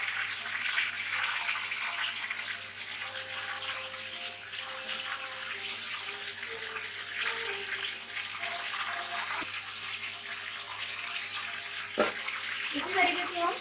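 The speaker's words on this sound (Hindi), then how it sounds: "इसी तरीके से हम चिकन के सारे पीसेस डीप फ्राई करेंगे" Chicken pakora pieces deep frying in oil, giving a steady, dense sizzle that runs unbroken throughout, with a faint hum beneath and a brief knock near the end.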